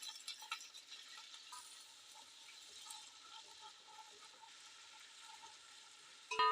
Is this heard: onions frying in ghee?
yes